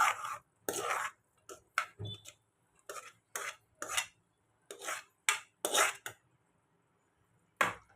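Mashed vegetables being mixed into pav bhaji in a pan, a series of close, irregular spatula scrapes and knocks against the metal with short pauses between strokes.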